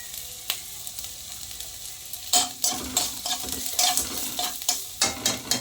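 Turmeric powder and grated coconut frying for a mutton gravy, heard as a quiet start, then rhythmic stirring scrapes and sizzling bursts in a pan, close and moderately loud, with no talk.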